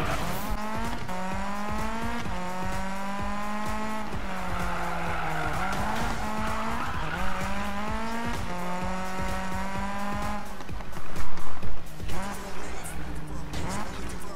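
A 1986 Toyota Sprinter APEX in Need for Speed, its engine droning and rising through gear changes, tires squealing in long skids, with someone talking over the driving.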